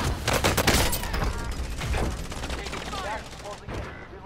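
Dense bursts of automatic gunfire from a video game rattle loudly and continuously, with rapid shots layered together and players talking over the shooting.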